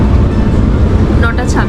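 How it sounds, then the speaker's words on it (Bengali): A high-speed train pulls out of Florence Santa Maria Novella station on the Rome-to-Venice route, giving a loud, steady low rumble that fills the short stretch, with faint voices near the end. "এই মাত্র ফ্লোরেন্স থেকে ট্রেন ছাড়লো"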